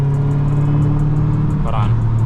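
A Dodge Hellcat V8 drives steadily with a loud, constant engine drone and a high whine layered on top, heard from inside the car, and a voice briefly cuts in near the end.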